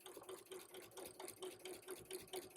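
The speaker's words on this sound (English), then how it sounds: "Make sure you drop that foot, and then you can begin quilting" A home sewing machine fitted with a walking foot quilts at a slow, steady pace, its needle thumping in a regular rhythmic chug, faint and continuous with no talk.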